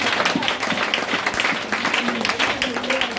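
A church congregation applauds and cheers in praise of the Lord, a dense, steady wash of clapping with scattered voices that carries through the whole stretch.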